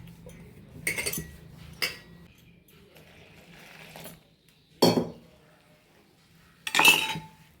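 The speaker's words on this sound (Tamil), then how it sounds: "இப்போ இது எல்லாத்தையுமே தண்ணி ஊற்றி நல்லா கரைச்சிக்குவோம்." Scattered clinks and scrapes of a utensil against a bowl while mixing bajji batter with water, a few sharp knocks spaced apart amid quieter stirring sounds, close up.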